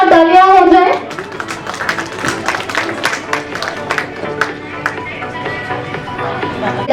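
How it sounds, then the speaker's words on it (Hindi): An audience at the Prayas Seva Samman award ceremony in Indore applauds loudly, with dense sustained clapping that follows a brief burst of amplified voice. "सबसे पहले इसके लिए जोरदार तालियां हो जाए।"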